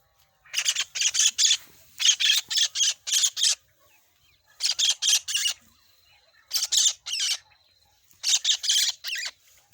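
Blue kingfisher calling at close range in repeated loud bursts of harsh, rapid, high-pitched squawking trills, each lasting about a second with short pauses between groups, no voices.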